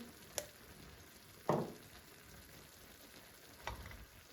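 Chicken pieces fry quietly in a pan while a utensil stirs them in three brief scraping strokes over a faint continuous sizzle, with no talk.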